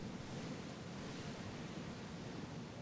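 Open-sea waves wash in a steady, soft hiss while sailing in Assassin's Creed Odyssey, a faint continuous surf texture with no voices over it.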